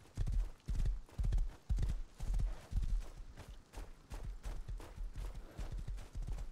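In the survival game Rust, a horse gallops with steady, rhythmic hoof clops on ground throughout, loud and near, with a brief whinny among the strides.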